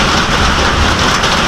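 Heavy rain pours down in a dense, loud, continuous roar, steady throughout with no voices.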